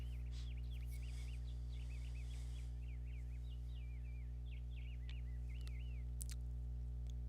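Warbling bird calls repeat in quick, wavering phrases across an ocean ambience track, fairly faint over a steady low hum and constant background wash, with no talking.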